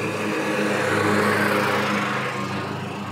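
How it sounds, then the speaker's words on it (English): Ride1Up Turris e-bike with a 750 watt sustained motor pulling away from a start, a steady close whine and hum with road noise, continuous and fairly loud. "nice easy takeoff from this 750 watt sustained motor"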